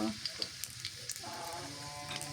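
Onion hitting hot oil for a village Bengali broiler chicken-feet and wild taro curry, a steady close sizzle with small crackling pops and a brief stirring scrape, fairly quiet.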